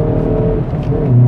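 A 2019 Hyundai i30N Performance hot hatch with 275 PS, its engine droning loudly in a low, steady tone that swells slightly at the end, heard up close.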